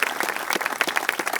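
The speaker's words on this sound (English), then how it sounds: "Another round of applause for Donna Lapardo." Outdoor crowd at a Rod Serling statue dedication in a Binghamton park claps briefly for Donna Lapardo, a short ragged round of applause at moderate volume.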